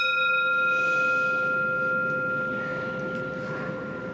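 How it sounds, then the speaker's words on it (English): A single struck bell rings out with steady, clear tones that slowly fade over several seconds, loud and close with no voices. "Just gonna hear a little bit of the bell."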